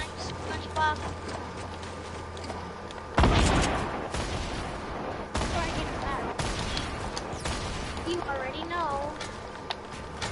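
Gunfire in a PS4 shooter crackles in scattered bursts, with one loud blast partway through, under a player talking casually throughout.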